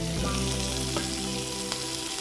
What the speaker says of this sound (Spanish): Salteamos en el mismo aceite de los espárragos la panceta